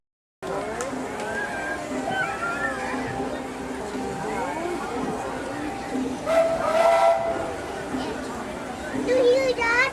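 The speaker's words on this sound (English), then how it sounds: "It's a choo-choo." A steam train whistle sounds in a Disney park, a long sustained tone with hissing steam and a few later toots, heard under steady chatter of people nearby.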